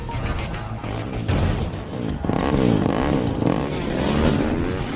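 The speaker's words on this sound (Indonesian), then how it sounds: "Mereka dikepung oleh 3 pengendara motor, namun Wes berhasil mengalahkan 2" Three motorcycles close in during a film action scene, engines revving and rising in a loud, rough roar that swells and surges as they approach, with no talk.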